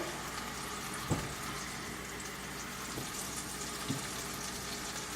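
Tilapia fillets frying in a pan give a steady, close sizzle throughout, with a few soft knocks or taps over the constant hiss.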